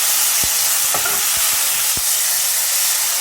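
Mustard frying and being stirred in a pan for chilli pickle, a steady loud sizzle with several soft scrapes and clicks of a spoon against the pan.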